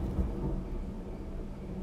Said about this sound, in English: that thunder sound came on